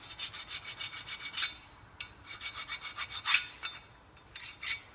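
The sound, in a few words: scrubbing rust off brake hub, Citroen C2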